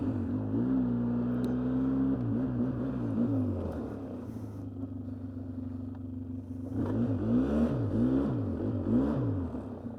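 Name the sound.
Polaris quad ATV engine running in high range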